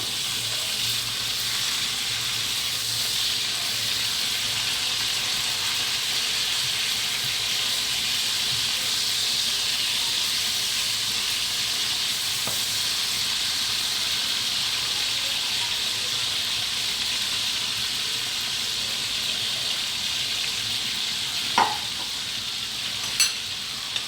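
Fish frying in a pan gives a steady, loud sizzle and hiss that runs unbroken throughout, with a couple of faint clicks near the end and no talking.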